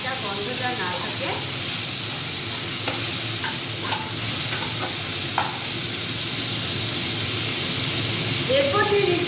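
A chopped medium onion fries in oil in a pan for rajma curry, with a steady close sizzle and scraping stir strokes while someone talks over it.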